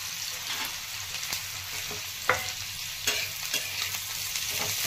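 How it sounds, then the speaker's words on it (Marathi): Onion and bombil fish sauté in a pan for a Marathi bombil rassa, a continuous sizzle with occasional spatula scrapes and taps as the mixture is stirred. "तर कांदा परतून घ्यायचा, यामध्ये ते बोंबील पण टाकून घेता येईल लगेच."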